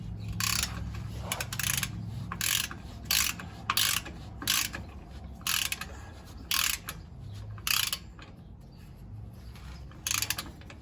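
A torque wrench ratchets on the rear differential of a 2021 Jeep Wrangler. Short bursts of close, sharp clicking repeat at uneven intervals over a low background hum.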